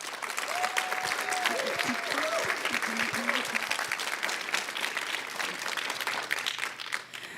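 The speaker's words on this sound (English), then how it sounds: "let's give Olga a round of applause" An audience at a Techstars Founder Catalyst end-of-program showcase applauds a founder, sustained crowd clapping with a few faint voices and brief tonal sounds rising early on, then tapering slightly toward the end.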